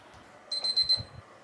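A thermometer probe gives a rapid series of about four high electronic beeps close by, short and evenly spaced, on reaching 160 degrees during beer brewing.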